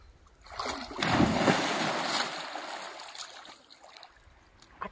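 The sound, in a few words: person diving into water, splash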